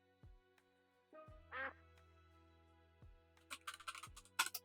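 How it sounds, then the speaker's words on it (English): Mallard duck in a video game quacking in a short burst, clear and close, over steady game music with low thumping beats, followed by clustered crackling sound effects near the end. "Mallard."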